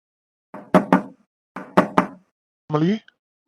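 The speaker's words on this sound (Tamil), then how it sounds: "யாரோ கதவு தட்டினாங்க போய் பாரு" Someone knocks on a door in an animated cartoon: two crisp double raps close together, followed by a brief voice.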